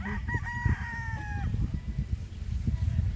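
A rooster crows once up close, a clear drawn-out call in the first second and a half, over low rumbling background noise.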